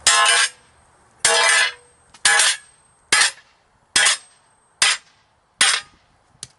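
Eight ringing metallic strikes of a hammer on a steel plate being flattened, evenly spaced and loud, each blow leaving a short resonant ring.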